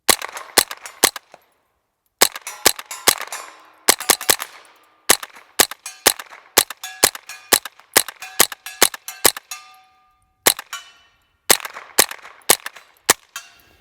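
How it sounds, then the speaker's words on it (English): A Smith & Wesson M&P 15-22 rifle with a Gemtech Integra suppressor fires CCI Mini-Mag rounds, giving sharp, close, suppressed cracks in quick irregular bursts with brief pauses between groups. "You can probably hear the majority of them would stay subsonic, but every once in a while you'd hear that crack of a bullet going over the speed of sound"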